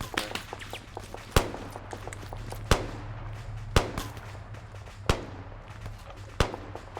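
Gunfire in a video game set in Operation Desert Storm, 1991: sharp single shots crack out roughly every second or so over a steady low engine-like hum, each one loud and distinct.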